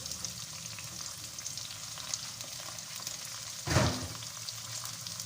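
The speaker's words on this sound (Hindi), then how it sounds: "उस वक्त तक भूनना है जब तक ये अच्छी तरह से ब्राउन नहीं हो जाते।" Onions frying in a pan until browned, a soft, steady crackling sizzle heard alone throughout, with one brief louder clatter near the middle.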